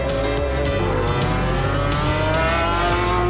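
Heavy race cars with powerful engines lapping a track with long, slightly banked curves during free practice, including a McLaren F1 and Gulf team cars; loud continuous engine roar with rising pitch and passing surges, no voices.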